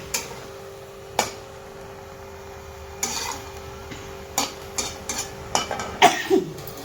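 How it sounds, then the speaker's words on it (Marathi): A spatula scrapes and taps against a pan as hadga flower vegetable is sautéed after tempering, with scattered soft clicks and clatters over a quiet background, getting busier toward the end. "छान असं परतून घेऊया."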